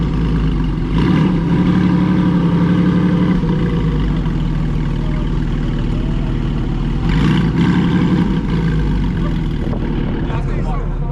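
Air-cooled 4.5-liter Porsche engine revving loudly at a gathering of air-cooled Porsches, a steady rumble with sharper rev bursts around the middle, close by with people talking over it.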